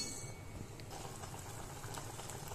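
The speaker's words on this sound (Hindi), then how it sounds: "उबल रहा है ये।" A pot of water with carrot and onion for noodles, bubbling at a low, steady boil, faint and continuous with no talk.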